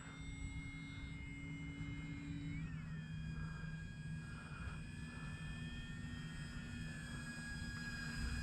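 An E-flite Maule M-7 radio-controlled plane on 4S power flies past, its steady electric motor whine holding through the pass and dipping in pitch partway, set against constant outdoor background noise.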